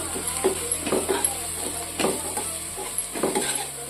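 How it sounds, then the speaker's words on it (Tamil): Spoon stirring turmeric and coriander powder into a handi corn curry in a pan, with several separate scraping clinks against the pan over a low steady background hum. "இதை நல்லா மிக்ஸ் பண்ணிக்கலாம்."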